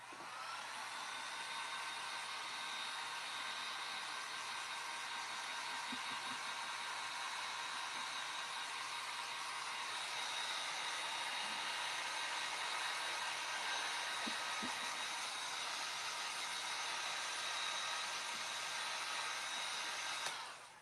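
Steady, even whoosh of a hair dryer blowing on milk-painted Christmas ornaments, running continuously and fairly close for about twenty seconds with no talking.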